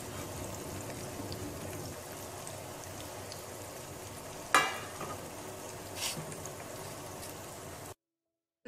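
Prawns frying in hot oil in a pan during a special prawn fry, a steady dense sizzle throughout with a few louder crackles and spatters, no voices, ending abruptly in silence.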